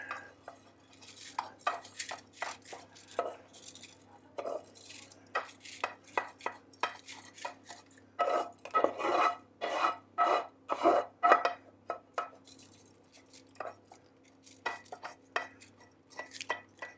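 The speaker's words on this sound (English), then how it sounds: "Now we'll put the rice into the dish." Grains of rice poured and spread across a paella dish, giving a run of close, dry scraping and rattling strokes in uneven bursts, with busier activity in the middle stretch and quieter touches at the edges.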